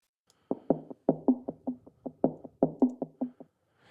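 A looped pattern of short, punchy tom-like drum hits with a low pitched tone, about a dozen strikes in a steady syncopated rhythm, alone and up close.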